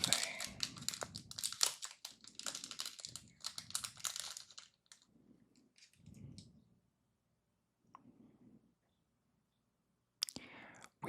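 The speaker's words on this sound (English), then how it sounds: "Let's take it out of the cellophane." Cellophane wrapping crinkled and pulled off an Indianapolis Motor Speedway map, close crisp crackling bursts in the first seconds, then sparse soft rustles and pauses with quiet whispering.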